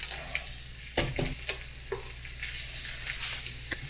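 Onions sizzle in olive oil and sausage fat in a paella pan, a steady crackling hiss broken by a few sharp bumps and scrapes as they are stirred.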